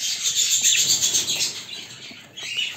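Red-eyed lutino chicks in a nest of nine chirp and squeak in a thin, high, continuous chatter, close and fairly loud with no talking.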